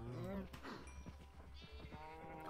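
Sheep in the video game Minecraft bleat in short wavering calls, heard close and clear while a voice talks over them.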